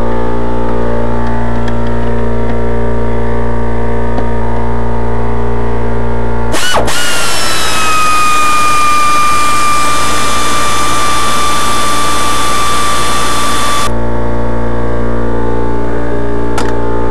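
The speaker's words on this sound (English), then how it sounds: "Yeah, she's noisy. It's a noisy air compressor" A noisy air compressor runs in a garage beside a 2001 Ford Escape V6, a constant loud drone with a sudden harsher, louder whining surge in the middle that then drops back to the steady hum, with no talk.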